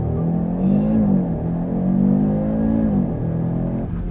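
A 2022 Audi RS3's five-cylinder engine is heard from inside the car during a launch-control start, with loud, rising acceleration through quick gear changes and engine tones that climb and drop in pitch.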